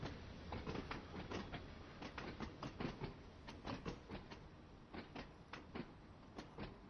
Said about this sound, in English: Oh, such a short train, it's very heavy.